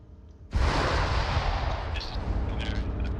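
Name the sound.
tank hitting anti-tank mine exploding, Arma 3 Iron Front video game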